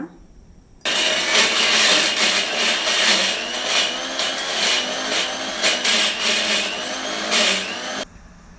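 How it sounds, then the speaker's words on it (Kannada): A mixer grinder whirs loudly grinding tomato and cashews, its motor pulsing unevenly as the contents churn, starting and stopping abruptly; no voices. "ಮಿಕ್ಸಿಗೆ ಹಾಕಿ ಗ್ರೈಂಡ್ ಮಾಡ್ಕೊಂಡು ಬರೋಣ"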